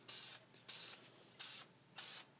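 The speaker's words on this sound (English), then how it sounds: "Using some contact cement, some spray contact cement, I spray it on the faceplate and on the back of the sandpaper." Spray contact cement hisses in four short, even bursts onto a 12-inch disc sander faceplate and the back of sandpaper, close and steady, with brief pauses between each spray and no talking.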